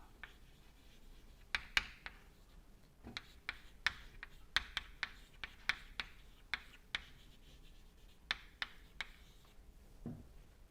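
A lecturer writes an equation on a board: a string of sharp, irregular taps and scratches of chalk or marker, close and fairly quiet, with short pauses between strokes and no talk.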